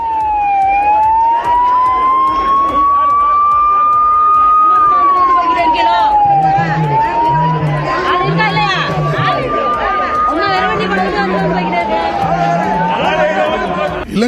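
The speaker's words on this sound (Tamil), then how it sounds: "மறியல் போராட்டத்தின் போது அந்த வழியாக வந்த ஆம்புலன்ஸுக்கு மீனவர்கள் எழுந்து வழிவிட்டனர்." An ambulance siren wails steadily through a fishermen's road-blockade protest, its pitch rising and falling repeatedly over loud crowd chatter and shouting voices.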